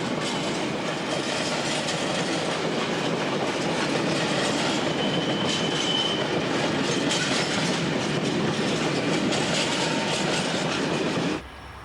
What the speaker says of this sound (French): Ce train léger sort de l'embranchement des usines Peugeot de Vesoul et se dirige vers Chalindray.